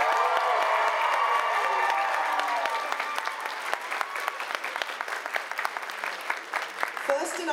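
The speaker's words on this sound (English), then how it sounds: "Give the intermediates a hell of a round of applause" An indoor audience at an anime fest costume contest gives a round of applause for the intermediate contestants, dense clapping with scattered cheers that thins out over several seconds.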